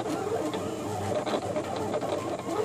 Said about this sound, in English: you can hear the machine here actually cutting the design.